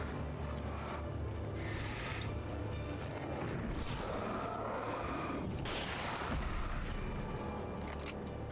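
Shotgun blasts in the Alan Wake video game, loud booming shots repeating over a dense, continuous rumbling background with no voices.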